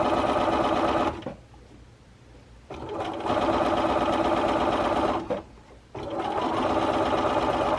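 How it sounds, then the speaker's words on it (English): A Bernina sewing machine stitches a quarter-inch seam on a quilt, its steady close whirring needle running in three bursts separated by two short pauses. "I start here in that corner, not here, and sew this down as you would do."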